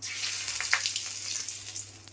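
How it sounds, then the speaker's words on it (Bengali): Hot oil sizzles and crackles steadily close by as cumin seeds and bay leaves fry, with a bright continuous hiss and small pops, no voices. "তেলের মধ্যে আমি ফোড়ন দিচ্ছি, একটু জিরা ফোড়ন দিচ্ছি, তেজপাতা দিচ্ছি"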